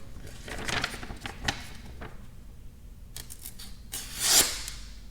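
A freshly sharpened knife slicing through paper, giving a few quick crisp rasping cuts, the sharpest and loudest one near the end, close and with no voices over it.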